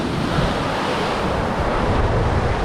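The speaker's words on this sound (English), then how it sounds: "This is the North Sea." North Sea surf washing onto the shore, a steady loud roar of breaking waves mixed with gusting wind buffeting the microphone, continuous throughout with no voices.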